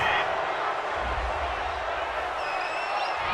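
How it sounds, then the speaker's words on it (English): A home crowd in Madden NFL 20, Seahawks vs. Vikings, roars steadily in approval of a penalty call, a dense, continuous wash of cheering that holds at an even level throughout. "This home crowd, they're happy with that call."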